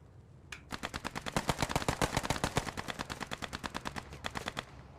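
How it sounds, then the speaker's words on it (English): A German MG machine gun in a World War II-style shooter fires a long, rapid, evenly spaced burst of sharp reports at close range, briefly pausing before a final quick volley, with no talk. "And another German MG."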